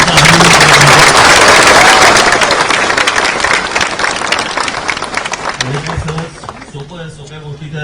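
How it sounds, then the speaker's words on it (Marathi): Loud applause from a crowd at a political gathering, dense clapping that swells at the start and slowly thins out, with a voice talking over the later part. "तुम्हाला खरंच जोरात टाळ्या वाजवून तुम्ही त्याचा अभिनंदन"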